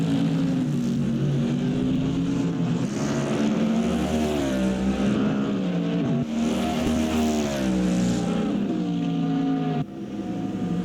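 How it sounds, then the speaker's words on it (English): Ford Mustang GT3 race car in a sim racing game, its engine droning loud and continuous with rising and falling pitch as it shifts and revs through the final sections of the Bahrain track. "Here comes the Mustang into the final sections of this track"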